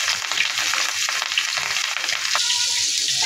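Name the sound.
rohu fish frying in oil on a tawa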